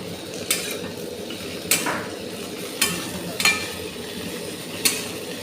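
Okra (bhindi) fries in a pan with a soft, steady sizzle, while a metal spatula stirs and scrapes against the pan in sharp clinks about once a second, close by.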